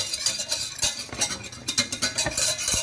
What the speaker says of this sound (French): on va assécher le beurre avec la farine